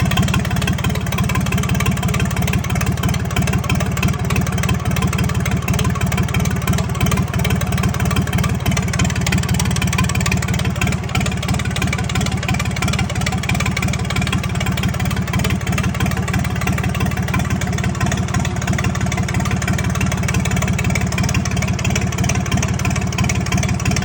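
A 1976 John Deere 350C dozer's diesel engine idles steadily and loudly close by, with a constant low rumble and no talking over it.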